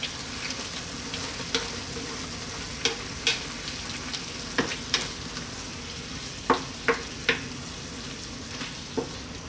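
Garlic chicken cream sauce with grated Parmesan sizzles steadily in a pan over high heat, with intermittent scraping clicks of a utensil as it is stirred, close and moderately loud.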